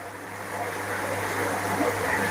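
A water shower pours from above like a small waterfall into a 1x3 m red tilapia fish pond fitted with a Resun LP60 aerator, a steady close rushing splash with a faint low hum underneath.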